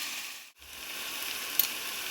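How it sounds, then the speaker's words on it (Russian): Food sizzles steadily in a frying pan before tomato paste goes in, a soft continuous hiss with a brief dip and a small clink, heard close with no talking. "Сейчас немножко поджарится, добавим томат-пасты."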